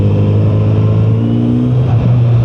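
A Kawasaki 2024 Z900 RS motorcycle engine hums loud and close at a steady high idle, its pitch rising slightly with brief throttle blips and no voices.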